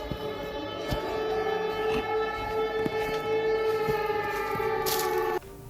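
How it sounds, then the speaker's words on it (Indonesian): An air raid siren sounds over Lublin, Poland, a sustained wailing tone held steady for several seconds, somewhat distant, with faint background thumps before it cuts off. "Sirine serangan udara berbunyi di Lublin."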